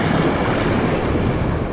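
Rough sea surf breaking on a rocky fishing shore in strong Beaufort 6 wind, a steady loud broadband wash of waves with wind buffeting the microphone throughout, no voices.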